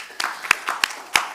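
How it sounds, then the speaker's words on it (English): A few scattered claps at a conference keynote, four or five sharp hand claps spaced unevenly over a moment, thin and close rather than a full audience ovation. "And a round of applause for Revive"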